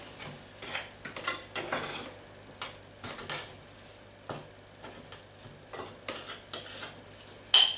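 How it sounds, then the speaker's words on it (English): Flour stirred into a tuna sauce in a pan, with repeated close scraping and clinking of a utensil against the pan in an irregular rhythm, and a sharper knock at the very end. "add some more flour into it and combine it back together"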